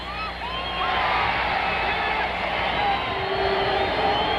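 Basketball arena crowd at Boston Garden during a close Knicks versus Celtics game, a steady loud roar of voices with whoops and shouts, with an announcer's speech over it.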